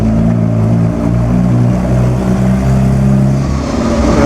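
BMW and Aston Martin cars passing on the road during the Mille Miglia, a loud sustained engine roar with steady low droning tones and no voices.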